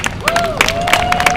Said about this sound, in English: Come on, let's hear those claps.